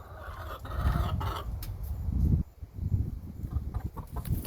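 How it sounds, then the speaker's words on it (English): Chickens cluck and squawk as they hurry out of an overbuilt backyard coop, a busy, continuous flock chatter with scuffling, fairly close and moderately loud. "Let's let these chickens out."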